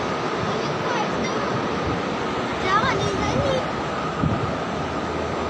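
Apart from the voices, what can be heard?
strong wind with a strange humming sound from the sky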